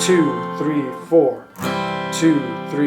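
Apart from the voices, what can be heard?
None of the usual background noises is heard.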